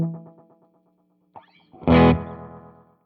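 Electric guitar played through a Behringer Vintage Time Machine delay pedal with the delay and mix turned low, soft plucked notes ringing out and fading, then a louder distorted strum with short, reverb-like repeats trailing away.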